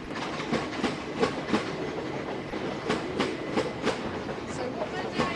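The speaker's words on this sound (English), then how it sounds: "wait for the noisy train to go past" A train rumbles past nearby with rhythmic clickety-clack of wheels over rail joints, steady and fairly loud throughout.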